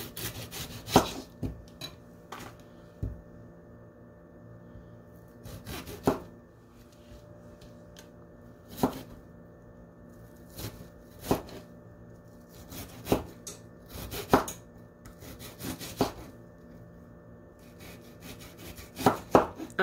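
A knife chops an onion on a cutting board, about a dozen sharp, separate cuts landing at an irregular pace close by, with quiet gaps and soft scraping between them and no talk.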